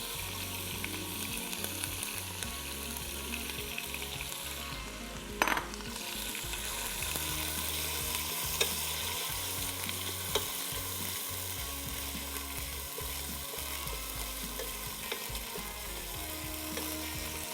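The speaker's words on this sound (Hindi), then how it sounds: "चिकन को इसमें डाल के अच्छे से फ्राई कर लेना है" Chicken frying in a pan, a steady close sizzle with faint scraping and clicking from stirring throughout, one brief sharp clatter partway through and no talk.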